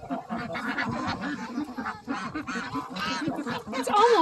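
A flock of geese and ducks at feeding time honks and quacks nonstop, a dense, loud, overlapping chorus of calls close by.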